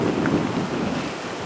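Storm-driven waves on the Sakonnet River during Hurricane Sandy make a loud, continuous roaring rush of water and wind, steady throughout with no voices.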